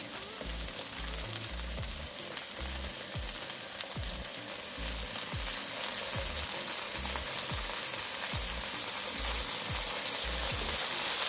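Chicken fries in a pan with a splash of soy sauce, a dense, even crackling sizzle that runs continuously throughout, close up and alone with no voices.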